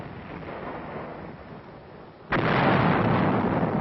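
Korean War artillery fire in archival newsreel sound, a low rumbling barrage that abruptly jumps to a loud, dense, sustained roar of firing partway through, with no voices.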